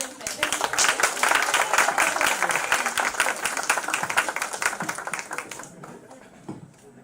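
Parents in an audience applaud children at a school science presentation, a dense burst of clapping that stays loud and steady for several seconds, then thins out and fades near the end.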